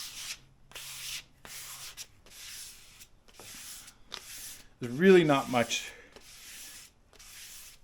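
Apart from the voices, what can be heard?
sandpaper sanding diamond willow walking stick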